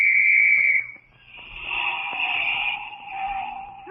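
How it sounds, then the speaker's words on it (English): A shrill police whistle blast sounds briefly at the start, followed by a wavering high tone and faint background noise. "That quarter I spent for this police whistle was a pretty smart investment."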